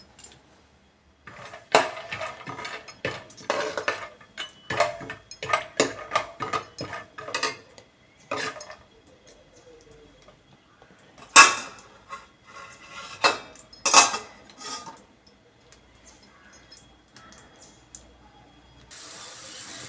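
Peanuts fry in a pan for capsicum lemon rice, heard as irregular bursts of close rattling and metallic clatter with quiet gaps between them.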